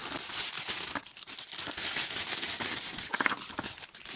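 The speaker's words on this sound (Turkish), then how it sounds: "Ben hepsini poşetten çıkarayım" Close, continuous crinkling and rustling of plastic bags being handled and pulled apart as toy figures are unwrapped, with no talking.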